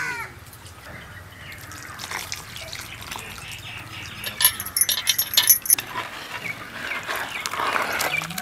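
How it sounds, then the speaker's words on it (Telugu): Boiled and cooled oil is poured into chicken pickle in a home kitchen, making wet drips and splashes along with clinking of utensils. The sound grows busier and more liquid toward the end. "ముందుగా కాచి చల్లార్చిన నూనె కాడ వేసుకుంటున్నాను."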